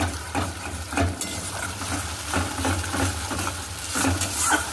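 Poppy seed paste being sautéed in a wok while pointed gourd waits nearby, giving a soft steady sizzle with scraping stirs and light clinks of a spatula against the pan throughout.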